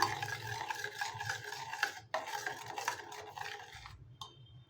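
Basale leaf tambuli being stirred and mixed in a pot, a steady close scraping and rubbing of utensil against vessel, continuous strokes with a brief pause midway.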